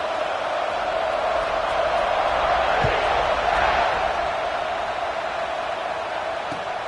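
A football stadium crowd roars at a kickoff, a steady, broad wall of cheering noise throughout with a few faint thumps in it.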